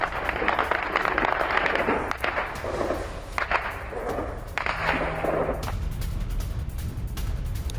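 Missile strikes in an attack on Donetsk, heard as a dense series of sharp, crackling blasts and thuds, some overlapping and some spaced apart, with a loud burst midway and no speech.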